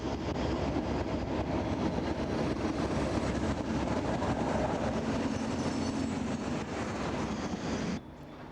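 Class 37 diesel locomotive 37401 arriving at Fort William with a train, a loud steady rolling rumble of engine and wheels that holds throughout and then drops off sharply near the end.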